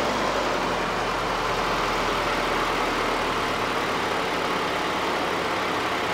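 A cold GM 2.5L Iron Duke four-cylinder engine idles roughly and steadily with a constant low rumble and broadband clatter, loud and close, with no voices.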